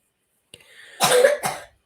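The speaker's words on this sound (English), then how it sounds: "My daughter is sleeping. She's coughing in her sleep." A sleeping child coughs a few times in quick bursts, a short rough cough followed by a second, close by in an otherwise quiet room.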